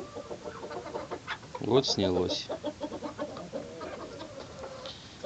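Chickens cluck softly in the background beneath a man's speech, with one louder close squawk partway through.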